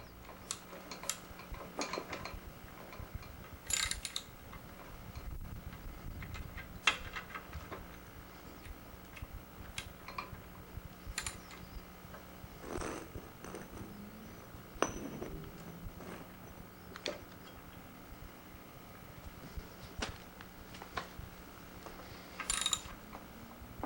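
Metal wrench work on an overtightened nut holding the blade of a McLane or Yard Machine gas lawn edger: scattered sharp clinks and ticks of tool on steel, fairly faint and irregular over a low steady background hum.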